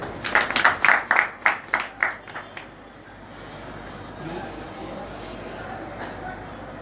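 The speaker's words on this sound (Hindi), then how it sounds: "इनके लिए तालियां।" A crowd at an award ceremony gives a short burst of rhythmic clapping that fades out after a couple of seconds, leaving quiet room murmur and faint background noise.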